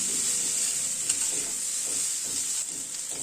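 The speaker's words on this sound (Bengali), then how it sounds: "একটু নাড়াচাড়া করে নিচ্ছি সবজিটা।" Mixed vegetables, including drumsticks and sweet potato, sizzle and fry in a pan while being stirred, a steady close hiss with soft scraping strokes from the spoon recurring at an irregular pace.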